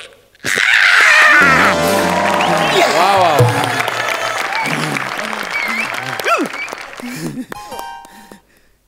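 Loud burst of audience applause at a Marathi comedy show, which swells at once, then thins and fades over several seconds as laughter and stray voices rise beneath it.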